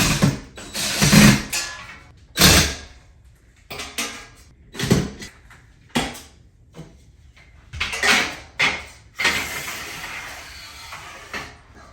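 Screws being driven into wall anchors for a frameless shower door install, heard as repeated short whirring and ratcheting bursts from a drill with pauses between, close and fairly loud.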